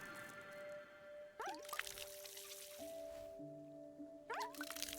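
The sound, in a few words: pouring water from a watering can onto an egg in the video game Wanderstop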